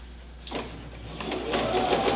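A sewing machine stitching a set-in sleeve seam whirs up from quiet, its motor buzz rising and holding steady close by for about two seconds.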